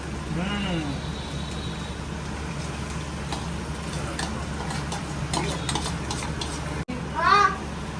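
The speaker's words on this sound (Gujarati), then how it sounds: "થોડુંક વાર હલાવવાનું જેથી કરીને બેસે નહીં" A utensil scrapes and stirs steadily through food in a pan over a constant background hum, with a brief louder clatter near the end.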